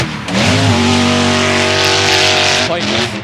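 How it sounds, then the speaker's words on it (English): BMW E46 drift car at a drift series qualifying event roaring past close by, with loud sustained engine revs rising and holding steady over a dense wash of crowd and track noise. "that E46 absolutely roaring across"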